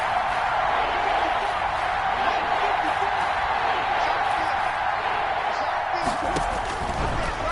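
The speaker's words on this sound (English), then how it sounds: "the crowd getting into it as we come up on a big 3rd down" Crowd noise from a football video game builds ahead of a big third-down play, a steady dense roar of cheering that runs throughout as a constant wash.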